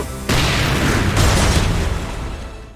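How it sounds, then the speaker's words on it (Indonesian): A loud, sustained bomb blast erupts suddenly, a deep booming roar that swells again midway and then slowly rumbles away. "dia meledakkan bom yang dipasang di dadanya."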